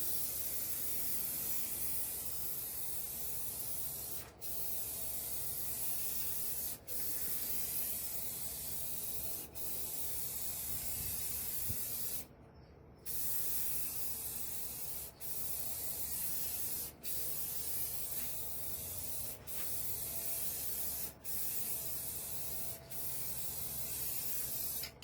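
Clear coat hisses steadily from a spray gun onto a carbon fiber S550 wing, laid down in close, loud passes broken by short regular pauses every few seconds, with one longer break midway.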